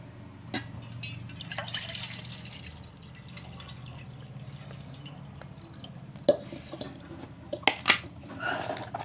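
Turmeric water is poured over chopped straw mushrooms in a home kitchen: close, fairly quiet dripping and splashing with light clinks of a vessel and a few sharper taps near the end.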